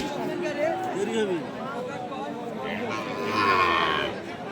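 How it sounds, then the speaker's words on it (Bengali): A young calf of about six or seven months moos at a busy cattle market, short nasal calls rising over a constant hubbub of people talking nearby. "বাছুর গরু হয়তো বা ছয় সাত মাস এরকম বয়সেরই হবে এই গরুটি"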